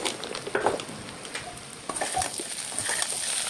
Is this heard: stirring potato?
yes